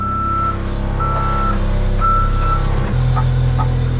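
A truck reverses near a construction site, its backup alarm sounding repeated evenly spaced beeps over a loud low engine rumble, close by and with no talking.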